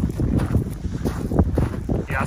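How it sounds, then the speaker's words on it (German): Wind gusts roar through a slot canyon in the Chihuahua Desert, buffeting the microphone with rough, fluctuating low rumbles throughout. "man merkt auch, wie der Wind hier durchzieht, also es ist richtig kalt"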